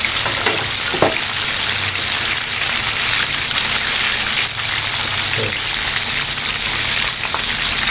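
Ayam kocak chicken pieces deep-frying in hot oil, a loud, dense, continuous sizzle with crackling throughout and a few faint knocks.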